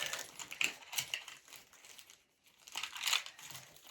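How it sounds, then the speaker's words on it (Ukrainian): Close, crisp crinkling of a thin plastic bag, rustling in irregular bursts with a short quiet pause in the middle. "Так, це просто пакетик."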